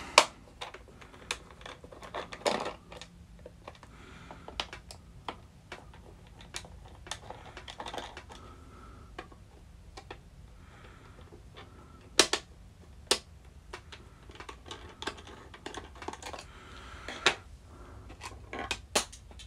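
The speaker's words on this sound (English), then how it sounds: "Let's get these other screws out of here." Screws being removed from an NES Gyromite 5-screw game cartridge, a scatter of small sharp clicks and plastic taps, irregular and close, over quiet background.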